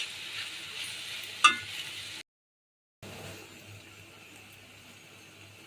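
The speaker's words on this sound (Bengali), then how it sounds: "একটু ভাজা ভাজা করে নিব" Okra fries in a pan with a steady soft sizzle, broken by a sharp stir or clatter and a brief gap of silence before the gentle frying hiss resumes.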